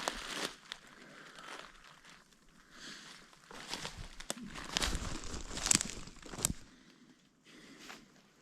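A crinkly balloon found in a swamp is folded up by hand, giving irregular crumpling and crackling bursts up close, mixed with rustling and a few heavier crunches.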